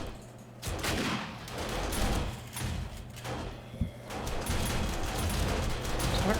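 Steady, dense bursts of automated turret fire from 7 Days to Die, sounding continuously across the whole stretch with a sharper thump partway through and no talking.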